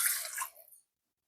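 A little water splashes into a pot of fish being readied for boiling in a Jaffna seafood kool; one short, close pour lasting under a second, then silence.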